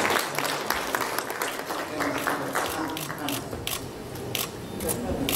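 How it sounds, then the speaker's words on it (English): An audience claps and cheers at a film launch ceremony in Dubai. The applause is steady and fairly loud with crackling hand claps throughout, and talk and crowd voices sit underneath it. "You know you have to keep applauding."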